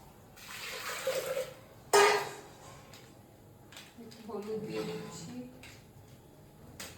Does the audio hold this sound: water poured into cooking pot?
yes